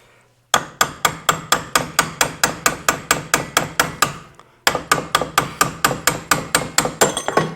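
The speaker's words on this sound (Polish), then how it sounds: "użyję młotka miedzianego." A copper hammer strikes metal in a steady rapid series of sharp ringing blows, a brief pause, then another run of evenly spaced hits, loud and close, while a CVT transmission is disassembled.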